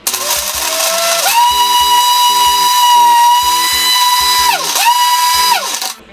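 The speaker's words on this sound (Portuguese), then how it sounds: "botem no liquidificador de vocês" A blender whirs steadily while mixing a drink, its motor whine loud and continuous with a brief dip in pitch as it pauses and restarts, rhythmic clunking from the jar underneath, then stopping abruptly.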